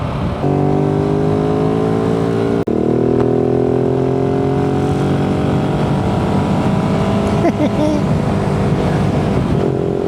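Motorcycle engine running steadily while riding, a loud continuous drone with rising and falling harmonic pitch as the bike accelerates, mixed with wind rush, and a brief sharp click near the start.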